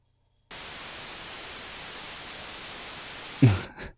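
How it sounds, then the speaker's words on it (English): White noise from an Avid signal generator effect starts abruptly as a flat, constant hiss, holds steady for about three seconds, then cuts off with a brief thump at the end. "Just the way white noise is supposed to sound."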